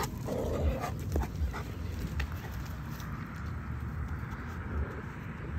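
A small dog plays outdoors, giving low rumbling growls and scuffling sounds at close range amid steady ambient noise, with no talk heard.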